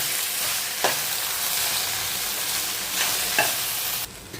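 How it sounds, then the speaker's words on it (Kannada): Okra frying in hot oil, a steady loud sizzle filling the pan while a spatula stirs with a couple of distinct scrapes, the hiss dropping away near the end. "ಮತ್ತೆ ಫ್ರೈ ಮಾಡ್ಕೊಬೇಕು ಇದನ್ನು ಆಯಿಲಲ್ಲಿ"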